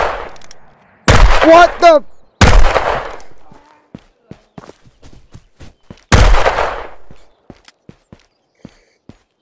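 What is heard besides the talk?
gunfire in the video game Ghost of Tabor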